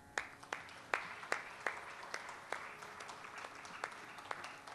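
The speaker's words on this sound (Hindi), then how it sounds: "और अब हम तालियों के साथ स्वागत करते हैं आज के हमारे पहले कलाकार श्री रविशंकर प्रधान." Sparse, faint applause from an audience welcoming the first performer at an Indian classical music concert, with a few distinct hand claps spaced irregularly through a quiet room.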